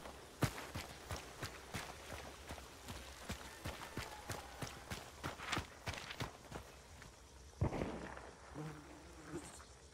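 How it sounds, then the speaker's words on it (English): Footsteps in Hunt: Showdown 1896, a steady run of sharp, fairly loud steps at a brisk regular pace, followed by a heavier thump and a few scattered noises near the end. "We have footsteps."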